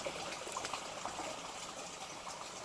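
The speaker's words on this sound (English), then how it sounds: "You can hear the water from the pond running down here, just through that undergrowth, down into the little stream bed." Pond water runs through undergrowth and down into a small stream bed outdoors at dawn, a faint, steady trickling wash with no voices.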